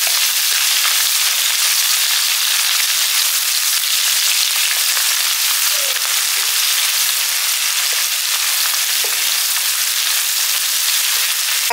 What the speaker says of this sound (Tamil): இப்போ எல்லாமே சேர்ந்து நல்லா பொரியட்டும்